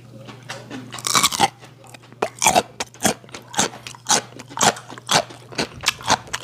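Crisp, crunchy chewing of raw seafood such as spoon worm and snow crab at a Korean raw-fish meal, with a quick burst of bites followed by a steady run of loud, close bites about twice per second.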